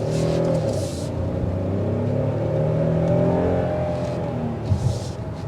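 A 2024 Hyundai Palisade Calligraphy, front-wheel drive, accelerating hard on a test drive, its engine note rising steadily and continuously from inside the cabin, fairly loud with a brief bump near the end.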